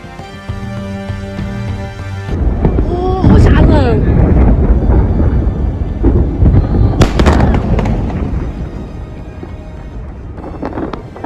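Fire at a fireworks factory in Nanfeng, Guang'an, Sichuan, China, after a brief musical intro: loud crackling bursts and popping explosions rise and fall in clusters over roaring noise, with a voice heard in places.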